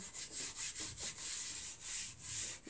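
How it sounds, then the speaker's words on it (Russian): Eraser rubbed back and forth on paper, a faint, close, rhythmic scrubbing of about a dozen quick strokes with no talking. "Я сотру."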